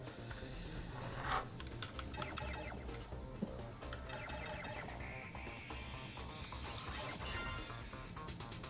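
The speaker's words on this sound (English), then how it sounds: "That way you guys don't hear the clicking of my keyboard as much" Rapid clicking of a computer keyboard during a Mega Man X livestream, steady and fairly quiet, with dense irregular keystrokes running throughout under background game sound.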